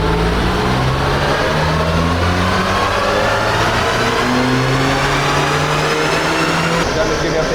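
A modified project car engine revs hard on a rolling road dyno in a loud enclosed room, a steady rising drone with harmonic whine climbing through the pull, continuous and close for the whole stretch.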